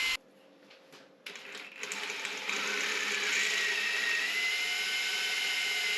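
A power drill whirs up in a few short starts, then runs continuously at high speed, biting steadily into a bolt head on a Honda VFR800 motorcycle, drilling a small pilot hole close by.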